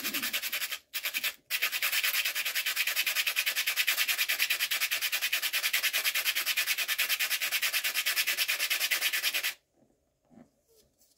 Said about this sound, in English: 180 grit is really cutting it down like quickly